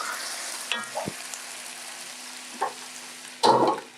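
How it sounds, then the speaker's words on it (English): Onions fry in a pot over a low, steady sizzle, with a few soft clinks and a louder scrape of stirring near the end. "Then we put our onions. And then we let it cook."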